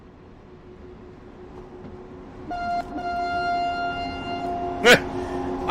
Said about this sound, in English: Here comes the offending train.